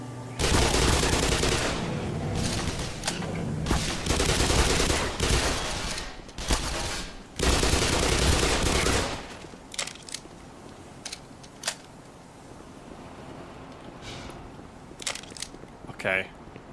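SMG gunfire in the Black Mesa shooter game: loud sustained rapid bursts of automatic fire in several long strings, followed by scattered single shots and short clicks at lower level.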